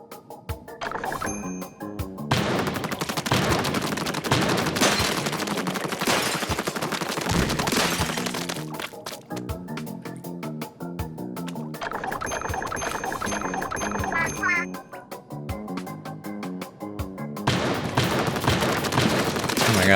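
Submachine-gun fire in Splatoon 3 comes in loud, rapid-fire bursts separated by short gaps, with bright chiming game effects mixed in between the volleys.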